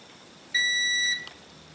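A multimeter in continuity mode gives a single steady electronic beep of about half a second as its probes touch, clear and close in a quiet room.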